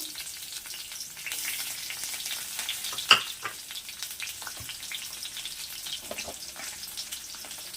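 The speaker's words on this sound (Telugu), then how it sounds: "ఆయిల్ హీట్ అవ్వగానే ఆనియన్స్ వేయాలండి" Chopped onions and curry leaves fry in hot oil with a steady crackling sizzle throughout, a sharp pop near the middle standing out above the hiss.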